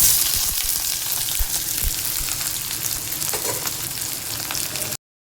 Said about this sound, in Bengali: শুধু একটু দারচিনি ফাটছে। এখানে কুচনো পেঁয়াজ